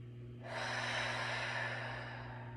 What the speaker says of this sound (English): Let's go ahead and take 4 deep breaths here.